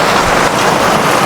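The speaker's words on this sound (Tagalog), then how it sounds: "Sobrang lakas na ng ulan." Very heavy rain pours down in a dense, loud, continuous hiss with a low rumble underneath, steady throughout with no voices.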